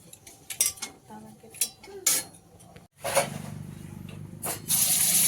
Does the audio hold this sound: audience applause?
no